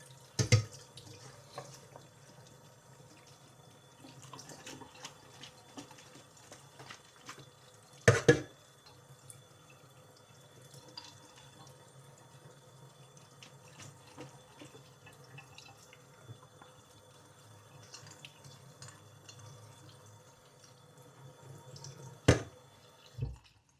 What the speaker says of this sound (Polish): Teraz trzeba tylko opukać dobrze zimną wodą.